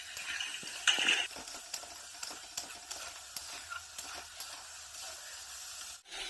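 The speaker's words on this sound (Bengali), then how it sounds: "মশলাটাকে কষিয়ে নেব।" A spice paste with salt and turmeric fries and is stirred in a pan. A soft sizzle runs underneath while a spoon scrapes and taps against the metal in an irregular rhythm, close and fairly quiet.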